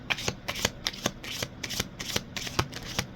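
Tarot cards are shuffled by hand in a quick rhythmic series of crisp riffling slaps and flutters, close and alone with no voices.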